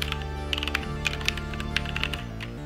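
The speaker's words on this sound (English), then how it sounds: "let's start typing with special sound effects" Fast typing on a computer keyboard with added sound effects, a run of crisp clicks and sharper accented key strikes over a steady low tonal background.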